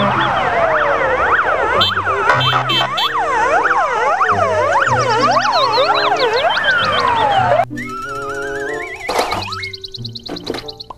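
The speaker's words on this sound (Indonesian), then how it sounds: "Mobil pemadam kebakaran." Layered fire truck sirens wail, sweeping up and down continuously, loud and busy, giving way near the end to cartoonish boings and thumps.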